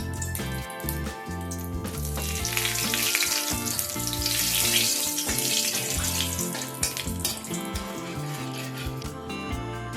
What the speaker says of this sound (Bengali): এই তেলের মধ্যে কিছু গোটা মশলা আমি অ্যাড করে দেবো।